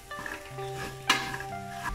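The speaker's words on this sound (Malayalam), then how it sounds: "ഇനി നന്നായിട്ട് വഴറ്റി കൊടുക്കാം." Masala powders for a homestyle mutton curry being stirred and sautéed in a pan, with soft scraping and light clattering against the metal and one sharper clink midway; no one talks.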